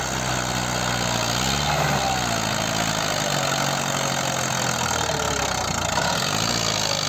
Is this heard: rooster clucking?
no